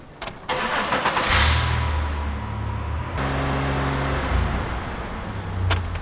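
A Chevy Impala engine, being checked for coolant temperature sensor faults, starts and runs at a raised 2,500 RPM as a steady, loud mid-pitched drone with a faint whine, close to the car.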